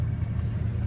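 Bugatti Veyron on the road, a steady low engine and road rumble droning continuously at moderate level, with no other sounds standing out.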